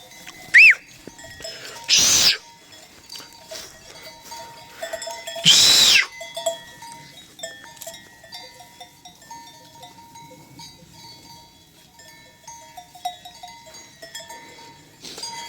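Sheep out in the open in a search for a lost sheep, with a couple of loud bleats early on, faint bells tinkling throughout, and scattered rustling in between.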